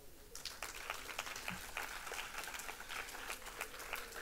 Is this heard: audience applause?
yes